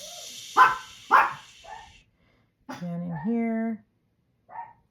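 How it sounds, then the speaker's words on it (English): Dogs bark indoors, two sharp barks close together near the start followed by a softer one, with a person talking over and after them. "Sorry about the dogs."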